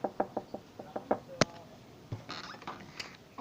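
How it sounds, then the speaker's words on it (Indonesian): Knocking on a homestay door comes as a quick run of about eight sharp, evenly spaced raps with one louder hit, followed by quieter rustling and shuffling nearby. "Kita ketok dulu."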